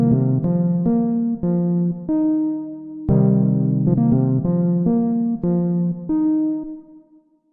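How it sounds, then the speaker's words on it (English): A short pre-recorded melody plays from a step sequencer as a series of clear, evenly stepped synth notes, bright and close, repeating a phrase before the last note rings out and fades, with no talking. "in the sequencer, I have a quick melody that I have loaded up that I just pre-recorded"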